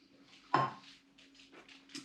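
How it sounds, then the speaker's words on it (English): A titanium camping mug being handled, one clear metallic clank followed by softer light taps and knocks, close and quiet. "I've got a titanium mug."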